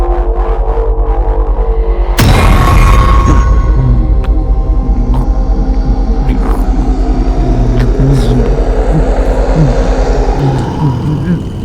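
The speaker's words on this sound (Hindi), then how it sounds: "आते हुए मोटरसाइकिल को देखकर वो छलावा वहां से गायब हो जाता है" A motorcycle engine revs loudly and close after an abrupt onset, its pitch rising and falling as it nears, over a continuous background hum.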